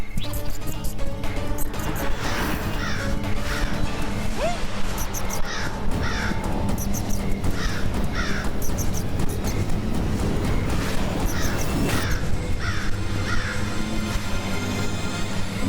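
Crows caw repeatedly in short, harsh calls that come in a steady run over a busy, noisy background with other sound mixed in.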